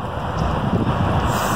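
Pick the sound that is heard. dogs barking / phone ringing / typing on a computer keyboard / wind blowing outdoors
wind blowing outdoors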